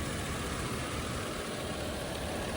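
A turbocharged V6 car engine idles steadily and close by, a continuous broadband rumble with no voices over it.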